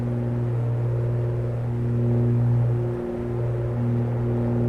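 A propeller aircraft engine in Microsoft Flight Simulator holds a steady drone at a set 2,300 to 2,500 RPM. The hum is continuous and even, with a brief dip partway through, and no one speaks.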